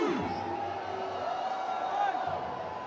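Stadium crowd at a cricket final in Sharjah cheering and whooping as a steady loud roar, with a voice shouting over it throughout.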